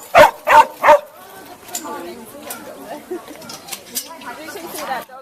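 A dog gives three loud, close barks in quick succession at the start, followed by faint yips and murmuring crowd chatter at an outdoor koala sanctuary in Fig Tree Pocket, Queensland.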